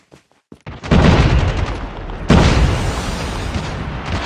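Grenade explosion in Call of Duty Mobile, a few light clicks followed by a loud booming blast with a long roaring tail, then a second heavy burst continuing the rumble, close and alone.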